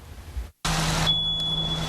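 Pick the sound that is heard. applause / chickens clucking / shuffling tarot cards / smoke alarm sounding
smoke alarm sounding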